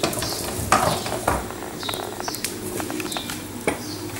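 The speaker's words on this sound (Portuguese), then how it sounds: "já temos o nosso leite a ferver, vamos colocando o arroz, vamos misturar bem." Rice stirred into boiling milk in a pot for creamy Portuguese arroz doce: irregular spoon scrapes and knocks against the pot over a low simmering rumble and faint bubbling, with no one talking.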